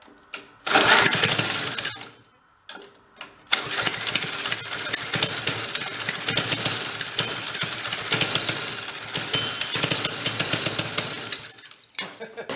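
Corvair engine on a go kart running loud and close, starting with a burst, dipping briefly, then roaring steadily with rough, rising throttle revs.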